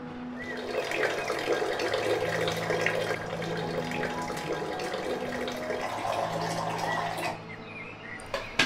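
Rice is rinsed under a running kitchen tap, with a continuous rushing stream and splashing held steady at moderate loudness, then a brief clatter at the end.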